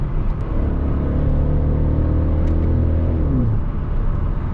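A BMW X5 with a 4.8-litre V8 revs smoothly toward 6500 rpm, a loud close engine note that climbs and holds, then drops away near the end over a constant rumble.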